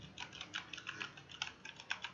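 Light, rapid clicking of a Corsair K95 RGB Platinum mechanical keyboard being typed on, an irregular run of crisp keystrokes close by in a quiet room.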